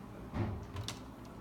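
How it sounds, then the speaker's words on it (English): A 1950s-era closet door in a condo's master bedroom closet gives a soft, close wooden knock and scrape, a couple of faint bumps over quiet room noise. "Yeah, the closet door doesn't work."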